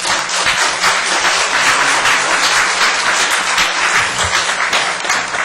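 A church congregation gives loud, sustained applause to welcome the pastor to the pulpit at a Korean Sunday service, a dense wash of clapping that stays steady throughout.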